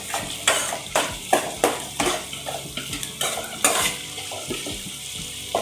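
Onions, green chillies and ginger paste fry in a pan, with repeated scraping stirs and clinks of a utensil against the metal over a steady sizzle, close and fairly loud.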